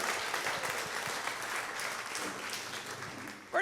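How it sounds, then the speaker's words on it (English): Theatre audience applause at an improv comedy show, a steady wash of clapping that carries on throughout and fades near the end. "Let's have a round of applause for our expert on fly fishing."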